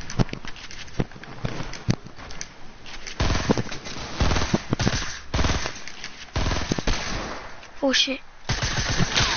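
Rapid bursts of automatic gunfire crackle through a 50-versus-50 shooter match, sharp repeated shots stacking up close and loud with a few distant pops, while a player's brief exclamation cuts in once.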